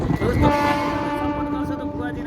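An arriving train sounds its horn in one loud, sustained, steady blare with a rich harmonic tone, close by and dominating the scene.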